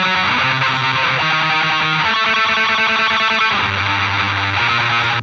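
Heavily distorted guitar run through the Stockholm preset of the Left Hand Path black metal plugin, playing sustained buzzing chords that shift pitch every second or so, loud, dense and continuous with no voices.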